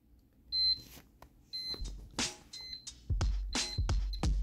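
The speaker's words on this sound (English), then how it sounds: "We're gonna see how the alarm functionality of this thing works." Alarm on a Soviet Elektronika IM-02 handheld game, a shrill electronic beep repeating in short bursts, joined by faint knocks and handling thumps close by.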